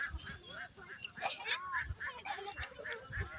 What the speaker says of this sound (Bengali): আর কিছু নাও দেখলে এই হাঁসগুলো দেখতে হয়।